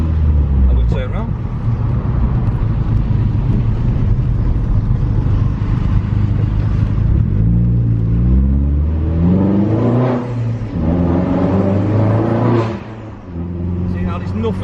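Car engine revving and pulling through gear changes from first to second on a wet road, steady loud drone with rising and falling pitch under ongoing talk from the driver.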